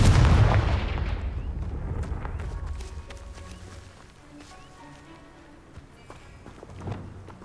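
A fire spell explodes in the Hogwarts Legacy video game with a loud, deep boom that decays slowly into rumbling debris, followed by faint footsteps and small thuds.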